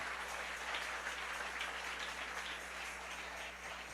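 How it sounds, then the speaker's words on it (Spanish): Faint, distant applause from a church congregation, a soft, even wash of many hands clapping that holds steady for a few seconds with a low hum underneath. "Dele un aplauso al Rey en esta linda y hermosa oportunidad."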